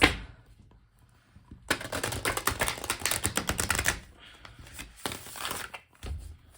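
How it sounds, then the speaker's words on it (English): Tarot cards being shuffled in one long burst, a dense riffling clatter of cards that rises sharply, runs for a couple of seconds, then fades into a few softer taps and flicks. "I'll do one more big shuffle here, and then we'll just go ahead and cut the deck for you guys."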